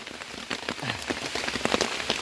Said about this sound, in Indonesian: Nah, harinya hujan ini.